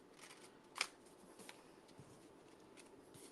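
Quiet handling noises with a sharp metallic snip or clink near the start, followed by a few faint scattered clicks and light rustling.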